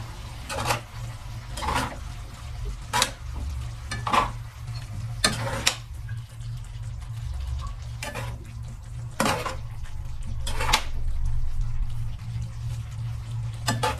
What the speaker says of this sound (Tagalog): Bali kumukulo na po siya. Ating haluin lang po.